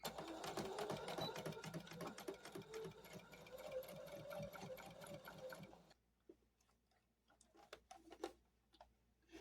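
A sewing machine stitches a quarter-inch seam on a small scrappy fabric coozie, a fast steady rattling whir for about six seconds, then stopping, leaving a few faint ticks and clicks in a quiet room.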